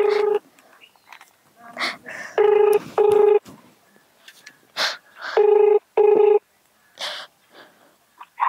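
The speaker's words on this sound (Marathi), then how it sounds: "तू तायडीला फोन लावून दे" Telephone keypad tones beep in short bursts, some doubled in quick succession, interleaved with quiet breathing and small household noises close by.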